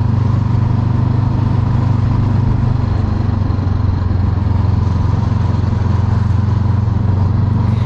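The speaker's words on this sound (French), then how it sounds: "c'est un 500 cm3 bicylindre. Qui dit bicylindre dit que ça pétarade partout, tout le temps." A 2021 Honda CB500X with a 500cc twin-cylinder engine drones steadily while being ridden, a loud continuous low rumble with wind noise and no speech.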